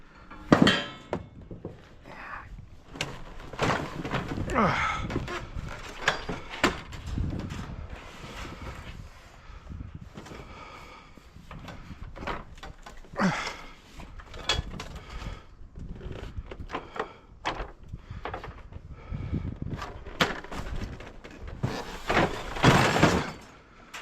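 Parts of an old TV set being hammered and pried apart, with repeated irregular metallic and plastic blows and cracks spread through the clip, some sharp and loud, with quieter rummaging between.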